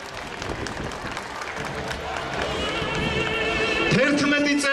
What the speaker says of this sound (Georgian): ტაში დაუკარით თქვენსაც და სხვის შვილებსაც